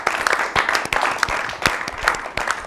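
Brief burst of applause from a small group, with loud, close, individual hand claps in an uneven rhythm.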